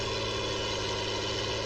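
A well-used Ford TW35 tractor engine idles on a farm, a steady, close low rumble with even vibration and no talk.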